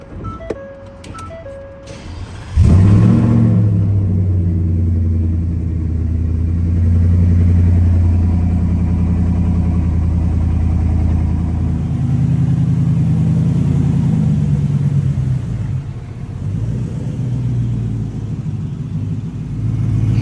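A Chevrolet Camaro fitted with a Roto Fab cold air intake cranks and fires after a few seconds of chimes, then settles into a loud, deep idle that rumbles on steadily, swelling slightly midway before easing back.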